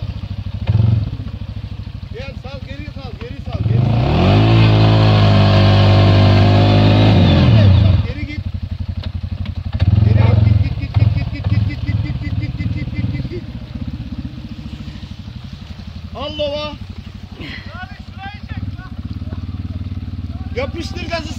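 An engine revs hard as the throttle is opened and holds a high, rising roar for several seconds before dropping back. A shorter rev follows, and voices shout throughout.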